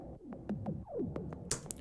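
Percussion processed through Shaperbox and heavy beat repeat gives faint, bubbly, synth-like pitch-sliding blips in quick succession, quiet and close, ending in a couple of bright hissy bursts.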